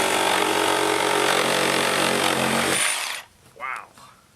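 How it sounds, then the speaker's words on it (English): A DeWalt 60V reciprocating saw tears loudly and continuously through wood containing nails for about three seconds, then stops abruptly, leaving a short quiet tail with a brief exclaimed voice. "Alright guys, now here comes the Dewalt."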